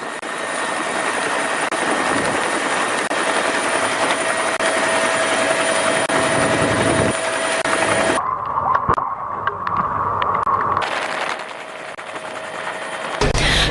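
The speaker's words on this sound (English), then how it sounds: "The rescue mission was carried out using a Bell 212 helicopter of the Sri Lanka Air Force." Bell 212 helicopter of the Sri Lanka Air Force on a rescue mission, a steady rotor and engine roar filling the whole stretch, briefly shifting to a harsher whine partway through before settling back.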